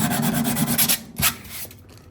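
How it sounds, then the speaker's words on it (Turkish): Sandpaper rubs back and forth over the wood of a broken oud under repair, a close, loud rasping of several strokes that fades toward the end, with no talk. "kalın zımparadan inceye doğru küçülterek çiziklerini alarak düzenden"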